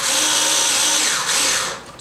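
An electric screwdriver whirs loudly and continuously close up for about two seconds while driving screws into an Alvin swing-arm lamp, then winds down at the end.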